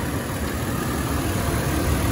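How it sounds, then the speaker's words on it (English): A car engine idles steadily while cleaner is sprayed into its intake during a fuel system cleaning, a loud, even, close mechanical rumble with no voices over it. "spraying into the intake while the engine is running"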